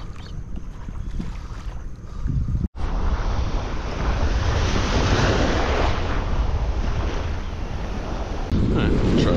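Ocean surf rolls steadily onto the south shore of Long Island on a late-summer day, a broad continuous wash of breaking waves with heavy wind buffeting the microphone and one brief dropout.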